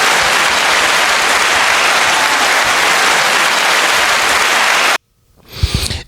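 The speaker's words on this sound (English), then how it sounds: "give it a round of applause" A big crowd applauds in a loud, dense, even roar of clapping that runs for about five seconds, then cuts off abruptly into a brief quiet moment and a low rumble.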